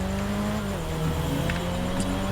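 A motorbike ridden in GTA V Online drones with a steady engine tone, holding a continuous, fairly loud whine with slight pitch shifts and no voices.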